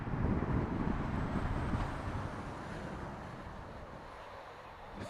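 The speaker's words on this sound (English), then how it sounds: "It's just so windy." Steady wind buffets an outdoor microphone at a planespotting spot near Heathrow Airport, a dense broadband rumble that is loudest at first and eases slightly while staying continuous throughout, with no talk.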